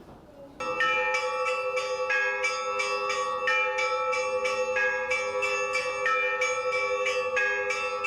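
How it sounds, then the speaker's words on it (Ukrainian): Church bells of the Dormition church in the village of Ptyche ring out loudly after a quiet start, their overlapping metallic strikes repeating in a steady, continuous peal with long ringing tones. "Уперше за чотири роки залунали дзвони на свято Успенській церкві у селі Птиче."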